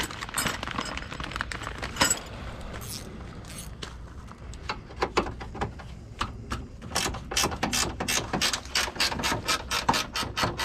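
A ratchet wrench clicks while turning a bolt on the alternator of a 2006 Honda Civic Si, first in sparse, irregular clicks, then in quicker, steady ratcheting bursts near the end, close by with no talk.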